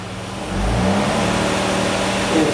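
A car engine runs steadily with a raised rev as a Snap-on Modis scan tool cycles it through an idle relearn, key on. It is a loud, continuous mid-pitched drone heard alone, with slight swells in RPM.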